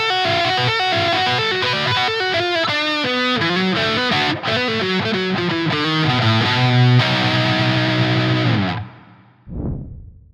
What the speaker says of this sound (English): For this take, I'm going to be using my Fender Telecaster with the humbucker pickups